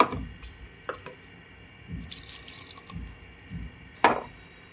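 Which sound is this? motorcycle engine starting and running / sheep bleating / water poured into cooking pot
water poured into cooking pot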